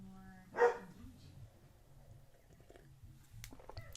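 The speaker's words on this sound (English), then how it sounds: "I apologize if you can hear my dogs barking." A dog in the living room next door lets out a single sharp bark, muffled by the wall, followed by quiet rustling.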